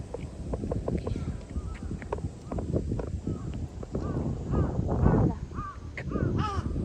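Crows caw repeatedly near the old palace in Tokyo, their harsh calls overlapping in quick, irregular bursts over a steady outdoor murmur with faint voices in the background.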